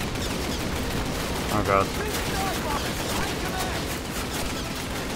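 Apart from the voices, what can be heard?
gunfire from enemies in Call of Duty video game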